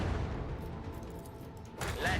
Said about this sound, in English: Let the macro cannons sing